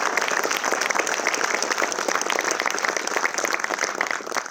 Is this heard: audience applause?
yes